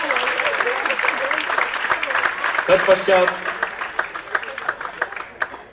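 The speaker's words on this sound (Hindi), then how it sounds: "प्लीज जोरदार तालियां हो जाए।" A live concert audience breaks into loud applause during an on-stage felicitation ceremony, the clapping running under an announcer's amplified voice.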